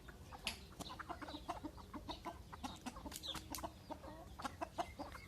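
A flock of turkeys and chickens gobbles and clucks in a busy, continuous chorus, some calls close and others farther off, with no one speaking.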